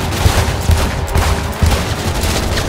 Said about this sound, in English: Always shoot the driver first.